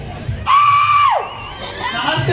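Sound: crowd shouting on cue

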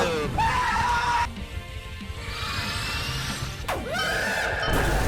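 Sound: screaming in the Roblox game Throw Balls at People

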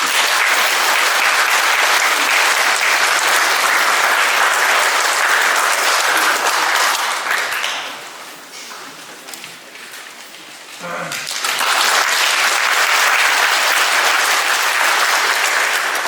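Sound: audience applause at ceremony

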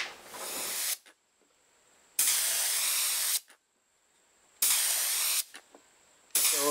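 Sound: spraying orange glaze onto pottery

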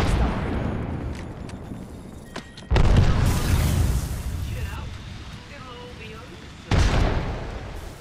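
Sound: frag grenade explosion in a video game

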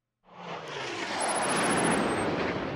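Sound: jet aircraft flying in the video game Just Cause 3

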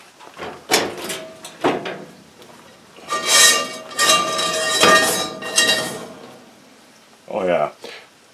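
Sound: grabbing a small Lodge cast iron skillet

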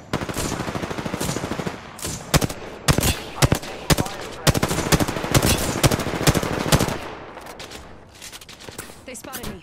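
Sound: gunfire in Apex Legends video game

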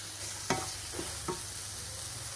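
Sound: stirring almonds and cashews into moong dal halwa

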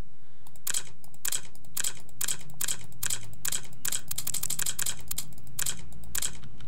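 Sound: keyboard typing sound effect

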